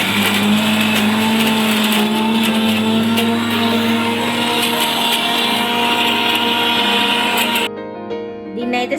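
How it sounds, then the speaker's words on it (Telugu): A mixer grinder blending ginger and garlic into paste for dum biryani gives a loud, steady motor whine that runs for several seconds, then cuts off abruptly near the end. "ముందైతే ఇది మిక్సీ పట్టించుకుంది అల్లం వెల్లుల్లి పేస్ట్ని"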